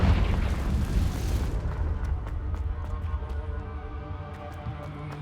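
A Confringo blasting curse explodes in Hogwarts Legacy, a heavy rumbling boom at the start fading into a low roar with scattered crackles and small pops, no talking.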